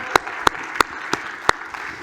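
Sparse clapping for the day's speakers at a conference: five sharp, evenly spaced claps, close and distinct over a quiet room, with no sustained crowd applause.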